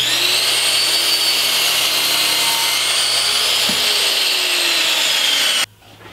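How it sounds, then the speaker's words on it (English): A saw cuts a miter through tight-grained poplar, a loud, steady, close whine with a rasping edge holding for about five and a half seconds before cutting off sharply. "I've just cut a miter,"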